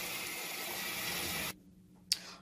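Tap water pours steadily into a portable washing machine tub, a loud continuous gushing rush that stops abruptly, followed by a brief splash or knock in the quieter tail.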